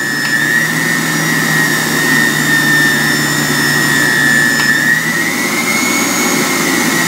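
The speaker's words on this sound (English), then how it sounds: "Let's see what the pulse mode sounds like." An electric juicer motor runs in pulse mode, giving a steady, fairly loud mechanical whine with a high droning tone that holds throughout without clear breaks.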